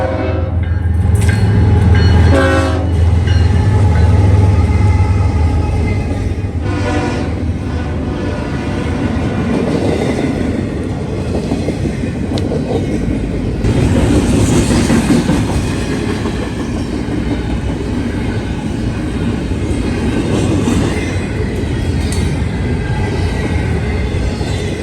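Norfolk Southern freight train led by a BNSF locomotive rolling westbound, loud and close, with a long horn blast early on, then a continuous rumble and clickety-clack of cars passing.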